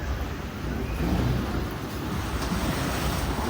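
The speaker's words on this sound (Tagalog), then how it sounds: "parang ang lakas ng alon" Strong ocean waves churn and surge around a speedboat heading out near Boracay in the Philippines, a loud, continuous roar of surf and water mixed with heavy wind buffeting the microphone, with no voices.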